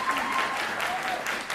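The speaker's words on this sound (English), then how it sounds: "Please hold your applause." Applause from the audience at a Jeffco school board public comment session, a dense steady patter of many hands filling the room, with faint voices underneath.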